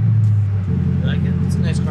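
Ford Shelby GT500 engine, a close low rumbling drone that eases off after a moment, with people chatting over it.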